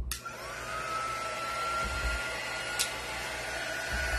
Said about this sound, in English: Now, I know this looks like a heat gun, but it is not a heat gun. It's our little drying tool.